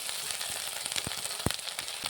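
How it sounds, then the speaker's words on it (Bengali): Onions frying in a pan over a high gas flame, a steady close sizzle with a few sharp pops and crackles near the middle. "এবারে বন্ধুরা গ্যাসের ফ্লেমটা একটু জোর দেবো দিয়ে পেঁয়াজটাকে আমি ভালো করে ভেজে নেব"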